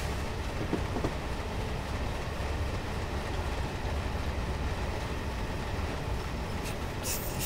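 Caledonian Railway Pug steam locomotive in Train Simulator 2018, running with the throttle cracked open slightly. A steady, dense mechanical rumble and rolling clatter continue unbroken, fairly loud, with no voices.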